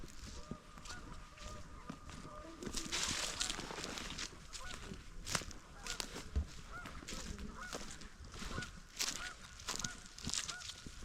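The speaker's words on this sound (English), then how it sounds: "there's even some visitors from Canada over here, Canadian geese." Canada geese honk repeatedly at a moderate distance in a swamp, their calls overlapping in an irregular chorus over faint outdoor ambience.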